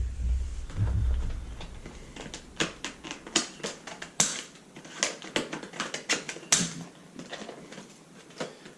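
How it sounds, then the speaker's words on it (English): Sharp, irregular snipping and crinkling clicks of kitchen scissors cutting through packaging, close up, in uneven bursts with no talking. "Got some mean looking kitchen scissors here."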